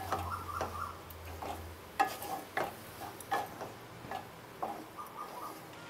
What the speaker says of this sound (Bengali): এবার আমি সমস্ত উপকরণগুলো দিয়ে আমি ভালো করে নেড়ে নেব